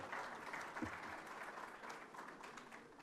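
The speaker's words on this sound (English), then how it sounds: "Je vous prie d'applaudir, s'il vous plaît." Applause from heads of state, government officials and guests at an IDA summit in Senegal, a steady wash of clapping heard at a distance, fairly faint.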